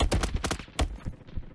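Gunfire from a Roblox shooter game comes as a quick close burst of several sharp shots, then a single report and fainter echoing cracks, all within under two seconds.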